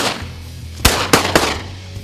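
Three loud shotgun blasts ring out outdoors on a pheasant hunt in quick succession, sharp and close, each trailing off briefly.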